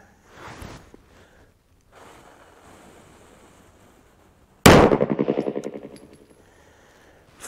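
A Springfield XD9 fires 9mm rounds over a chronograph outdoors: one sudden, loud, sharp report with a rattling, decaying tail breaks a fairly quiet stretch with faint rustling.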